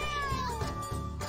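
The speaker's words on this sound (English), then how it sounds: "This cat's so cute, I want to stay here forever." An elderly cat in a video game lets out a drawn-out, falling meow over steady game music, clear and alone with no talking.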